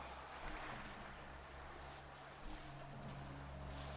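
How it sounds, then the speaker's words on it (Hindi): Cartoon ocean waves wash and surge steadily with a windy, watery rush, a continuous broad wash that swells slightly around the middle, with no talking over it. "पायरॉन लहरों के साथ बह रहा है।"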